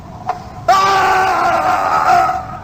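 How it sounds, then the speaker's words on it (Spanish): A single loud, sustained human scream with a strained, wavering tone, rising abruptly after a brief quiet lead-in and holding for about two seconds with no other sounds around it. "Se oyó un grito."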